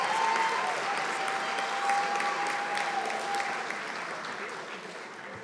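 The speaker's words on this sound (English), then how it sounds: "we'd like a round of applause to congratulate the PTD graduates" An audience at a pharmacy technician graduation ceremony gives a round of applause, dense sustained clapping from a large indoor crowd that holds steady and slowly fades toward the end.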